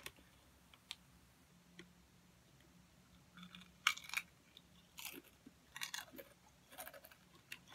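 Doritos chips being crunched and chewed up close, with scattered crisp bites and crackly chewing bursts, growing busier in the second half, no talk.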